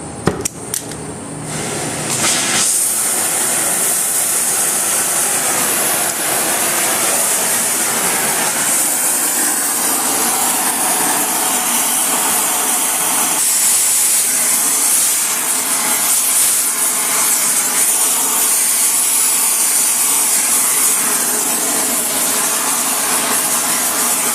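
A torch hisses steadily and loudly while heating a marked section of wrought iron railing bar before twisting, a continuous broadband roar with no talk.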